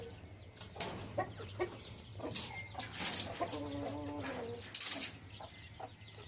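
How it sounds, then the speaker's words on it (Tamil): Calls of guinea fowl, several raspy clucking cries repeating over a steady low hum, with scattered chirps of other birds at moderate distance. "கிண்ணிக்கோழி வரட்டும் பொறுமையாக."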